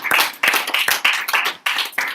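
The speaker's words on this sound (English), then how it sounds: "if you can all just give a round of applause for Swami Vimokshananda" A farewell gathering applauds Swami Vimokshananda with a short burst of close, loud clapping in uneven waves that stops and restarts a few times.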